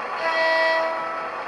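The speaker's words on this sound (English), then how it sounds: "and a short horn" A brief horn toot from an MTH O-gauge Doodlebug DC-3 rail inspection car model with Proto-Sound 3.0, a single short harmonic blast swelling and fading within about a second.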